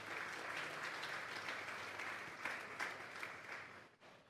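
A church congregation at a Sunday afternoon service claps loudly in sustained, even applause, with a few sharper bursts near the end before it cuts off abruptly.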